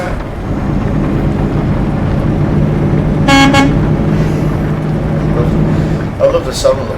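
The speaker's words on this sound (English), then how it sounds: "I love the sound of the horn now." A truck horn in Euro Truck Simulator 2 blares in one short loud blast over a steady engine drone, followed by a brief fainter toot near the end, with someone talking throughout.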